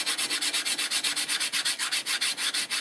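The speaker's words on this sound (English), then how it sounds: "Sanding down this filler I put on yesterday." Rapid rhythmic strokes sanding body filler on an aircraft elevator rasp back and forth, about seven per second, with a steady, close-up scratchy texture and no voices.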